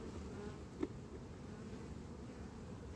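Honeybees buzzing inside a crowded hive opened for inspection, a soft continuous low drone with one brief nearby tap, no talking.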